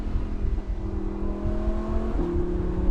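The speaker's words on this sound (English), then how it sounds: "With the top down, the exhaust is a lot louder." A Lamborghini Huracan Spyder engine rumbles steadily with a throaty exhaust, top down, rising in pitch as it revs up, loud and close throughout.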